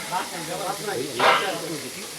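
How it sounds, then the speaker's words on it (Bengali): Various kinds of fish frying hot in a cook's pan, a steady sizzle with a brief louder hiss burst, mixed with voices and background murmur. "দেখতেই পাচ্ছেন একদম গরম গরম বিভিন্ন রকমের মাছের ভাজা।"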